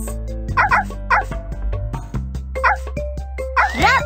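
A cartoon puppy in a Dora the Explorer game yips and barks in short repeated bursts, up close over a light musical background.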